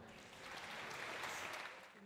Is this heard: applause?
yes